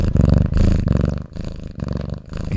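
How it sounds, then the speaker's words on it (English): A pet cat purrs right into a microphone, a loud, close, continuous rumbling purr pulsing in steady breaths with a brief dip midway. "Here, Obi purring."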